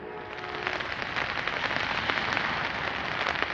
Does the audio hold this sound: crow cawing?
no